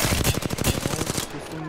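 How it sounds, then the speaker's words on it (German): Rapid gunfire from the video game Apex Legends, a loud close burst of repeated shots in quick rhythm that thins out toward the end. "Ich gehe in Single-Mode-Shots."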